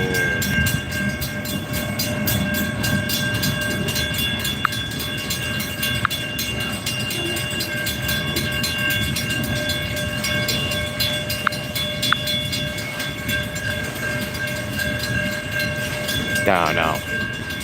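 Amtrak's Auto Train rolls past at a railroad crossing, a long steady rumble and clatter of cars with a loud horn blast near the end and crossing bells ringing throughout, while excited voices talk over it.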